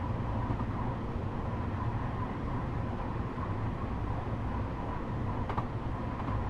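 A steady, continuous rumble of an M7A commuter train, six cars long, running through a station platform without stopping on the Hudson Line in Train Simulator 2019, droning evenly with a faint click late on.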